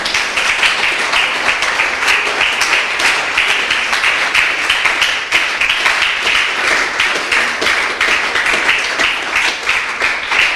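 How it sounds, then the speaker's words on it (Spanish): A church congregation claps at a Spanish-language morning worship service, a dense, steady roar of applause that runs unbroken for about ten seconds with no voices over it. "Dale ese aplauso a Jesús en esta mañana."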